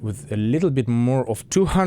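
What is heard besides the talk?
No everyday noise stands out behind the speech.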